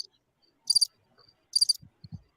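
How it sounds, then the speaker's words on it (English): Two short bursts of cricket chirping, each a quick rapid trill, separated by near silence and followed by a couple of low soft thumps; a sound effect dropped in as a gag. "crickets."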